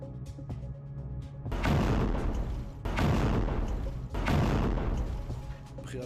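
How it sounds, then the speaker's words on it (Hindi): Deep, rumbling booms roll in one after another over Safed in northern Israel during Hezbollah attacks, three heavy blasts with long reverberating tails, distant and muffled. "धमाके सुने गए।"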